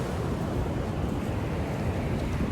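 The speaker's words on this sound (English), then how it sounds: "Can you all hear the waves? We're so close to the beach." Ocean waves near Wharariki Beach in Golden Bay, New Zealand, heard as a steady broadband rumble and wash of surf, mixed with buffeting wind noise on the microphone, with no talking.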